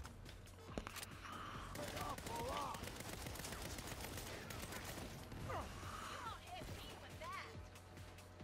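Bursts of gunfire in the video game Saints Row crackle through a busy mix, with rapid shots scattered across the scene under talking voices and a low, steady background hum.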